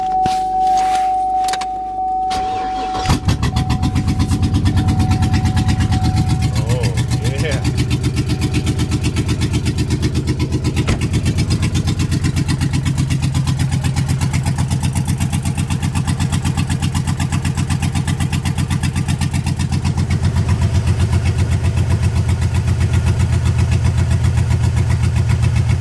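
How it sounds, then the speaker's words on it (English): A Cadillac Escalade field car cranks briefly after a key jingle, then catches and settles into a loud, steady idle that runs close by for over twenty seconds with no talk. "this one I know runs because I drove it on the trailer. If you don't believe it,"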